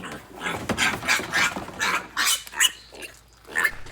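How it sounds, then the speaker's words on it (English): Several pigs in their pen grunt and squeal, with close overlapping calls in irregular bursts that fill the whole stretch. "we got our 5 pigs out of the truck and in their pen now"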